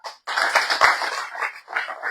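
A church congregation at a home church visitation breaks into clapping, a dense burst of hand claps that swells and dips for about two seconds, close and fairly loud with no talking.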